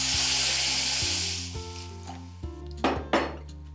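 Water is poured into a pan of fried crushed peanut masala, setting off a loud burst of sizzling that fades away, followed by clinks of a spoon against the pan.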